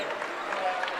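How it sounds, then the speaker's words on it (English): Basketball fans at a Montana versus Idaho Big Sky tournament game cheer and applaud in a dense, steady crowd roar that lasts only a moment. "Lots of Grizz fans in attendance, cheering on both the men and the women."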